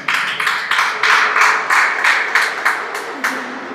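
A church congregation claps hands for the Lord in a steady, even rhythm of about a dozen loud, crisp beats, with no voices over it.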